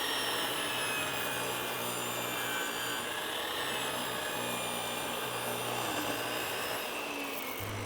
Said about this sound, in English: I'm gonna also rip a beveled edge on our bottom here so I can just fine tune that scribe down